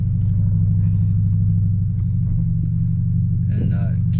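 Manual car fitted with a racing clutch idles and revs steadily with a deep rumbling engine note while a learner driver works the clutch and throttle, close and loud throughout, with people talking over it.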